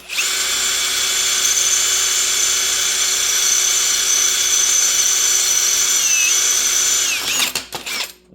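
Power drill boring through a metal piece on a welding table during a turntable lead switch repair, a loud steady high-pitched whine held for about seven seconds, then winding down.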